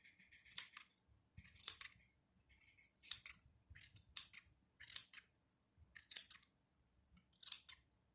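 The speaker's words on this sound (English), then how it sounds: "Put the scissors in the middle." Scissors snipping through Lion Brand yarn to make a pom pom, seven or eight sharp close cuts at irregular intervals about a second apart, crisp and quiet with no talk.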